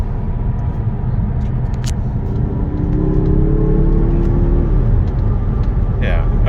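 A 2023 Mazda 3 2.5 Turbo AWD engine revs toward its roughly 6,000 RPM rev limiter, holding a loud droning whine that rises and then falls away over steady road and cabin rumble.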